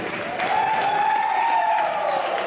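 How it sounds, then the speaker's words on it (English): Audience applause at a convention's Iron Bartender cocktail event, a steady, dense wash of clapping that swells slightly after the first half second and carries on evenly, with a faint tonal voice-like thread running through the crowd noise. "A big round of applause for the Iron Bartender"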